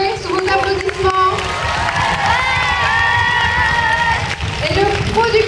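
A crowd at a Kev Adams film appearance in Charleville cheers and applauds loudly and steadily for the director, with whoops and excited shouting above the noise.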